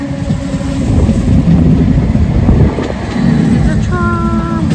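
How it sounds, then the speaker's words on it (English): A tram rolls in with a loud rumbling mechanical roar that swells and dips, and a high, whining squeal of wheels or brakes rises near the end. "The tram is coming."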